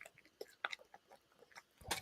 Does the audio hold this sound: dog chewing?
yes